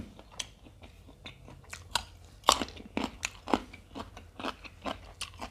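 Fermented pork skin (naem nang mu), eaten with sticky rice and fresh chilies, is chewed close to the mic, with loud, repeated crisp crunches and bites in an uneven rhythm.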